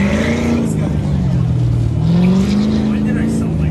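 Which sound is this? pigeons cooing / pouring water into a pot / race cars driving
race cars driving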